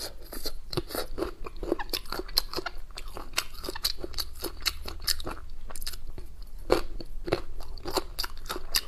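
Close, loud crunching and chewing of spicy, cumin-seasoned Chinese meaty triangle bone, with a dense, irregular run of crisp bites and cartilage crunches throughout.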